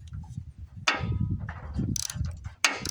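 A socket ratchet tightens a spark plug on a Volkswagen engine, a close mechanical clicking and rasping in short strokes, with sharp metallic clacks as the tool is repositioned.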